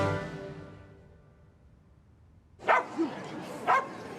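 A dog gives a few sharp barks close by, spaced about a second apart, following a fading stretch of music and low background sound.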